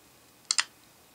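Unlock screen click on a ZTE Open Firefox OS phone, two quick sharp clicks in close succession, crisp and near against a quiet background.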